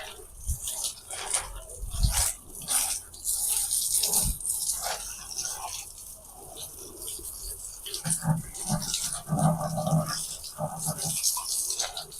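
Water is poured over newly planted plants in a home garden, making a soft, uneven splashing and trickling at close range. Faint background sounds run underneath.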